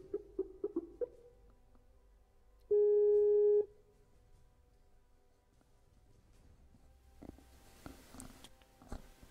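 A single steady telephone call tone rings out once while calling someone, a short sustained beep standing alone against quiet room noise, followed by faint clicks and rustling.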